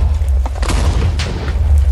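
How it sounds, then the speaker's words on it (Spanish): Explosions in the Minecraft video game: deep, heavy booms and rumbling blasts that roll continuously and loudly, with low thuds overlapping one another and no voices. "yo sigo escuchando explosiones"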